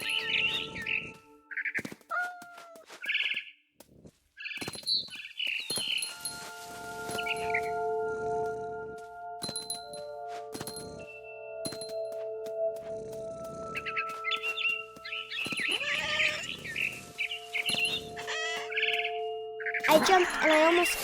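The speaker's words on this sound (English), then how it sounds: "Then I heard chirping outside my window. It was a barn swallow going back to her nest." A barn swallow chirps and twitters in What Remains of Edith Finch, in scattered bursts of bright, high calls with pauses between them, close by, alongside faint game ambience and a sustained tonal backdrop.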